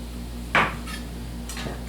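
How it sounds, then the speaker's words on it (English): Knife slicing the tops off eight ball zucchini squash on a kitchen cutting board, a single crisp cut followed by two fainter taps, close and quiet over a low steady hum. "We're going to cut the tops off."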